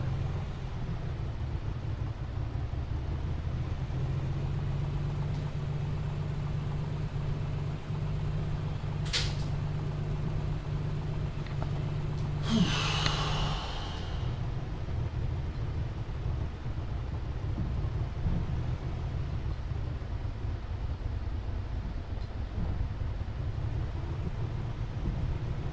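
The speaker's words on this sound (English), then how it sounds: "Now you can hear how rough the engine is. It's just those cylinders down." An aircraft engine with cylinders down drones steadily and roughly, its low uneven rumble constant throughout, broken by a brief sharp click and a short rushing swish midway.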